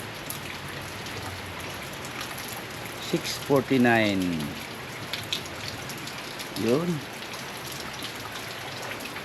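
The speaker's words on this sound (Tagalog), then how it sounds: "salamat sa Diyos, nag-ulan na naman guys, no?" Morning rain falls steadily outside a house as a constant soft hiss of drops on surfaces, while someone talks briefly over it twice.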